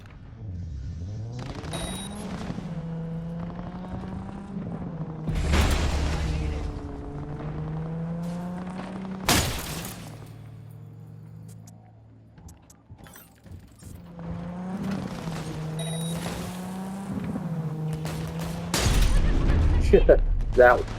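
A car takes damage in Cyberpunk 2077, with heavy crunching impacts landing over a droning engine hum and game sounds. Voices talk through parts of the stretch.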